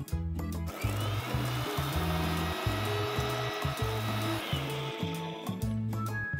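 An electric mixer grinder grinds cumin seeds and black peppercorns into a fine powder. It makes a loud, close whirring roar, and the whole jar rattles and bangs in a rhythmic pulse. No one speaks.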